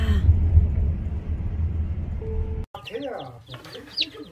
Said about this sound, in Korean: 병아리야